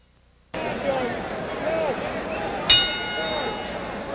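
A single sharp boxing ring bell clang signals round two, ringing out briefly over a steady crowd hubbub in an arena during a heavyweight bout.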